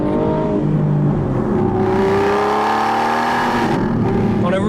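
Aston Martin Vantage engine revving hard through a corner as the car drifts sideways, loud close engine note climbing and falling with throttle changes, with a swelling whine from the drivetrain.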